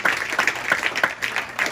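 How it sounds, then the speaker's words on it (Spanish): A Pentecostal church congregation claps during a sermon, a short, loud burst of close applause with distinct individual hand claps and a brief ringing tone above. "Denle un aplauso al Señor"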